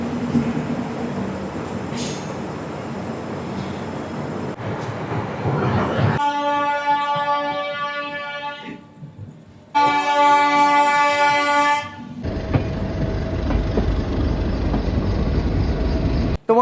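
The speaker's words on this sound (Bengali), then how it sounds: "ঠিক সঠিক সময় আমাদের ট্রেন ছেড়ে দিল শালিমার স্টেশন থেকে" The 12881 Puri Garib Rath Express pulls out of Shalimar station in Kolkata with loud, close rumbling and clanking, broken by several long horn blasts and a sharp, brief toot.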